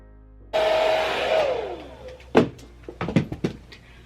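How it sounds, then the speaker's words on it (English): A hair dryer drying a short curly bob wig switches on with a loud whirring whine that shifts in pitch, then goes quiet, followed by a few sharp knocks and clatters. "we hold the blow dryer underneath our hair"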